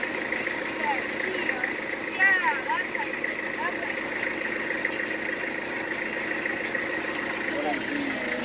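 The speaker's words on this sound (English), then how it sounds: "Can you shut the tractor off" A tractor engine idles while a Wood-Mizer LT15 sawmill is unloaded with the tractor's forks, a steady low mechanical rumble running throughout, with a person talking over it.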